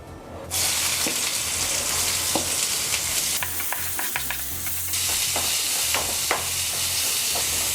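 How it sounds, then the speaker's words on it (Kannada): Onions drop into hot oil in a pan, a sudden burst of loud sizzling that continues steadily close by, with occasional clinks of a utensil and no voices. "ಎಣ್ಣೆ ಕಾದ ಮೇಲೆ ಈಗ ಈರುಳ್ಳಿ ಹಾಕ್ತಿದ್ದೀನಿ"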